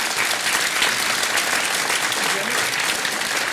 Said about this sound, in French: vous pouvez applaudir tous les candidats et le lauréat